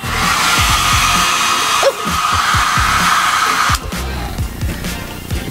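A hair dryer blows in a loud, steady whoosh, set on its lowest setting for a nail wrap, with brief drops in level and faint handling knocks underneath.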